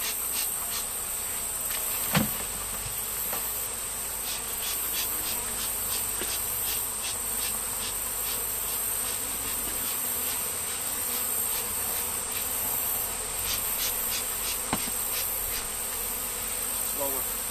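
Bees buzz continuously around an open hive as comb is transferred, a close, steady drone with rising and falling whines and a couple of soft knocks from the woodwork.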